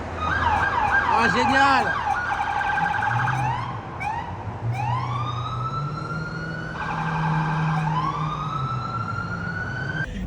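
A French police car's siren wails and yelps close by, loud and cycling through changing tones for the whole stretch, while a person briefly speaks over it.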